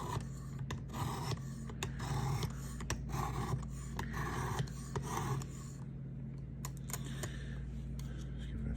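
Knife blade drawn across the belt of a Work Sharp powered sharpener, a repeated raspy grinding in short passes over a steady motor hum, close and fairly quiet, with pauses between strokes.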